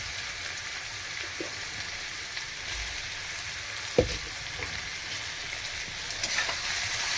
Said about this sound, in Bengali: সবজিটা হয়ে গেছে ভাজা ভাজা, ভাত তুলে দেবো। ভাত তুলে দিচ্ছি।